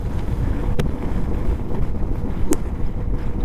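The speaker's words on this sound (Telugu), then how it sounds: "గాలి కూడా మస్తు కొడుతున్నది అక్కడికెళ్ళి ఇక్కడికెళ్ళి" Strong wind roars steadily across the open White Desert salt flat during the Rann Utsav festival, buffeting the microphone as a constant loud rumble with two brief sharp knocks.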